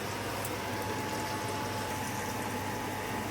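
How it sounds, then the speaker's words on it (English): Peppers, tomato and onions sizzle in a hot wok, a steady dense frying hiss with fine crackle that holds even and close throughout, with no voices. "I'm gonna start to put the peppers, tomato, and onions into the wok"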